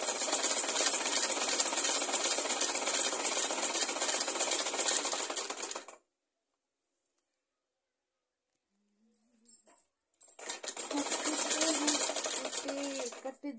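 A sewing machine stitching a petticoat whirs in a steady, close, continuous run, stops for several seconds of silence, then starts up again at the same fast pace.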